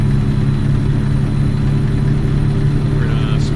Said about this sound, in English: some of these newer emission motors, they always sound so funny.